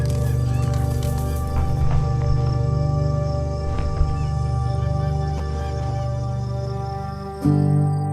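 Lesser prairie chickens calling at a spring display ground in the southern Great Plains, a steady chorus of low booming and cackling calls running throughout, with a sharp change in the sound near the end.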